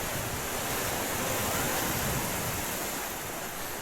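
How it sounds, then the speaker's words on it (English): A massive water fountain in the Alnwick Castle gardens gushes in a loud, continuous broadband rush of splashing water, steady for several seconds with no voices. "Bottom massive water fountain squirts out"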